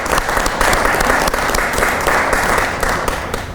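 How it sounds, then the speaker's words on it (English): An audience at a Veterans Day awards ceremony in Indianapolis gives the awardees a final round of applause, loud, dense clapping from many hands that holds steady and tapers slightly at the end. "So one last round of applause for all of our awardees."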